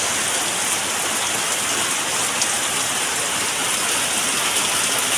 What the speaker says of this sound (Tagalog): Nakastra ng ulan.